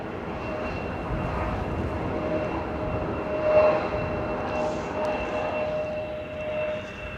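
A heavy jet airliner arriving at Manchester Airport in the evening, a steady broad engine roar with a faint tonal whine, swelling slightly midway and holding at moderate distance throughout.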